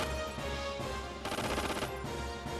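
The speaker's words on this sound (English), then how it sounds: "Stop it with the rapid fire!" A sustained rapid-fire attack in Xenogears forms a dense, continuous barrage of crackling impacts, swelling slightly in the middle of the stretch before easing back.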